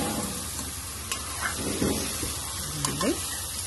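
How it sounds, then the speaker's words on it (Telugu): Mutton keema sizzles in a pan with ginger, green chilli and masala, with steady frying hiss and a few stirring scrapes and clinks. A voice briefly mumbles in the background. "ఇప్పుడు అన్నీ కలిపి ఫ్రై చేయాలి కాసేపు"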